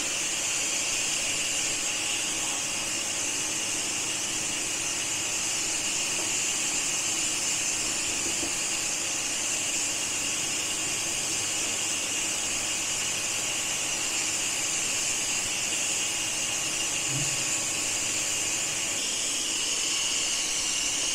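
Steady loud hiss of steam escaping from a pressure cooker with its whistle removed while cooking egg chana masala, a continuous broadband rush with no talk.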